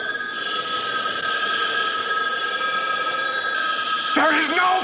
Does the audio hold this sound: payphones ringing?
yes